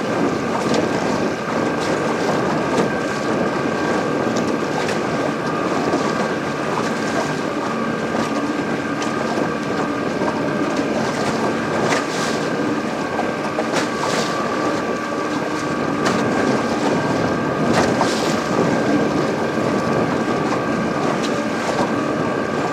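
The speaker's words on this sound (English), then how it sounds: "it's been cold and windy out here today" Wind blowing across a small fishing boat on a cold, windy lake, a continuous broadband roar with buffeting against the microphone, steady and loud throughout with no talking.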